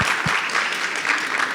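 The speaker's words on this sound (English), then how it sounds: "Let's give our board president a round of applause" An advisory board meeting gives its board president a round of applause, a steady wash of clapping from the room that holds level throughout the brief moment, with no voices over it.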